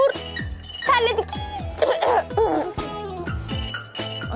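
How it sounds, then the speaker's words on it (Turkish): A child coughs several times in a domestic sitcom scene, short harsh bursts mixed in with talking and background music. "Öksürmeye de başladım."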